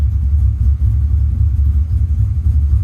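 A Pontiac GTO engine idles in neutral with the clutch pressed in, a loud, steady low rumble with a slightly uneven pulse up close.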